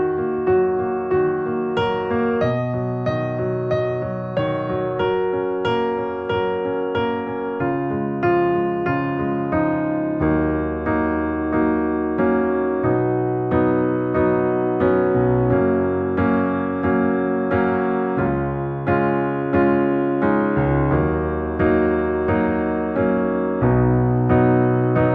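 Piano plays the part 1 section of a song, with steady sustained chords and a repeating melody running continuously for the whole stretch, close and clear with no talking.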